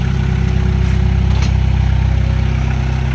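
A tractor engine runs steadily at a loud, close idle while the trailer hitch is being lifted, a constant low throbbing drone with no speech.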